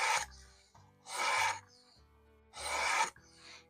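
A knife blade is drawn across the abrasive of a Work Sharp Precision Adjust Elite sharpener in three quiet, close rasping strokes, each about half a second long, with short pauses between them.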